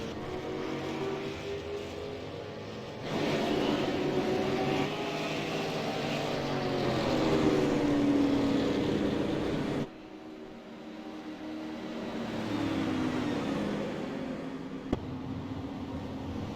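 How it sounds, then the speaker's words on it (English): Super late model race car engines roar around an Iowa track, several cars passing in waves of loud, droning, pitch-shifting engine noise with a sharp drop partway through, no talk. "these cars sound outstanding"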